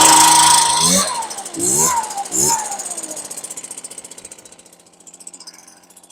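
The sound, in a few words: STIHL BR450 leaf blower engine starting and running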